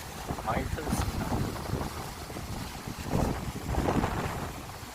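Wind gusting across a rocky seaside fishing spot on a coastal road, a steady broadband rush with buffeting on the microphone, close and moderately loud throughout.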